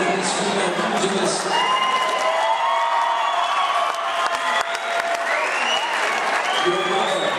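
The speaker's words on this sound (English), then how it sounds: "let's applause for both these female pugilists" A crowd applauds at a women's MMA fighting event, with loud, sustained clapping and some cheering throughout, under the amplified voice of a ring announcer.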